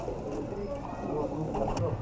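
A thud breed pigeon coos softly in short low calls against a busy background, with someone talking nearby.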